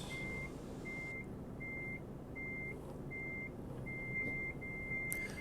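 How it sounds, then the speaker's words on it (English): Reversing alarms from trucks in Euro Truck Simulator 2 multiplayer sound as a regular series of high, steady electronic beeps, about seven short pulses over a low engine hum, fairly quiet in the mix. "You know what's really fun is when you get like 5 trucks backing up at the same time? It just sounds like a constant beep."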